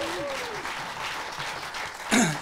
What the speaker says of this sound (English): A big round of applause to the October Gallery.